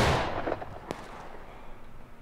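Gunfire in a multiplayer shooter video game: a sharp burst opens the moment, followed by a single crisp shot and fading rumbling echoes, with no voices heard.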